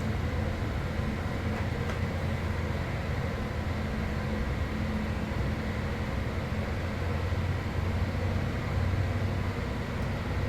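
A train rumbles past in a flight simulator game, a steady low rolling noise with a faint hiss on top, continuous and moderately distant, with no voices.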